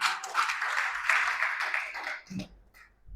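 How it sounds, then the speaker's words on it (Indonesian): A church congregation at GBI BSB Sorong breaks into dense, continuous applause that fills the space, then quickly dies away into a few scattered sounds. "Tepuk tangan bagi Tuhan kita"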